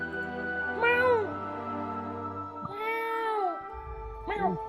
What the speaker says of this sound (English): You hear a little meow.